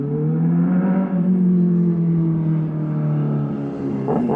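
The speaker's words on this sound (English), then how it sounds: "I can't stand these loud motorcycles" Loud motorcycles passing near a low-income apartment building, a sustained droning engine roar that holds steady and fades slightly toward the end.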